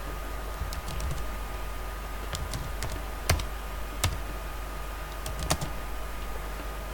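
Keystrokes on a computer keyboard as a command is typed, a sparse run of light clicks with a few sharper taps, close by over a steady background hum.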